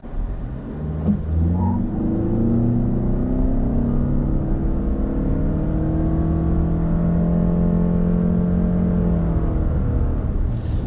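A 2021 Toyota Highlander Hybrid Platinum revs up and pulls hard in sport mode from a brake-torque launch, its pitch climbing in long sweeping rises as it accelerates, loud and close with no talk.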